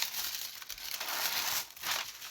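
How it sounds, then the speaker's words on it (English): Plastic film being peeled off a sheet of backing paper during notebook making, a close, steady crackling rip that swells and fades in two pulls. "Okay, I'll just pull this film off of here"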